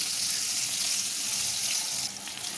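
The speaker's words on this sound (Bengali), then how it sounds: "এখানে কড়ায় তেল গরম হচ্ছে, এখানে পেঁয়াজগুলো দিয়ে দিলাম ভেন্ডি আলু তরকারি করার জন্য।" Sliced onions sizzle in hot oil in a kadai, a wok-style pan, for an okra and potato curry: a steady, close, dense hiss that dips slightly near the end, with no voices.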